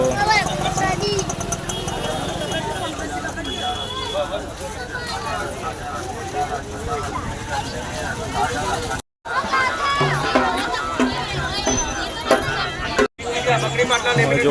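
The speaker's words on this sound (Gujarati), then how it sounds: "બહુ ભીડ છે." Dense crowd chatter fills a busy village fair in Palodar, a constant loud hubbub of many voices with footsteps and background noise, briefly cut by two short dropouts.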